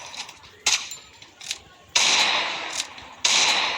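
Sharp gunshot bursts in a first-person shooter video game, aimed as headshots: a few quick cracks early, then two loud sustained volleys of gunfire, each cutting off abruptly.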